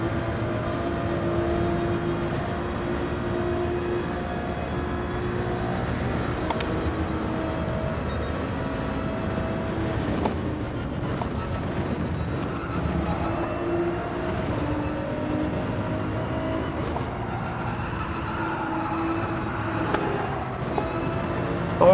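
A car in Gran Turismo 7 racing at Watkins Glen, with a missed gear shift: a steady, loud onboard engine drone broken by several abrupt rev jumps and drops, and no talking.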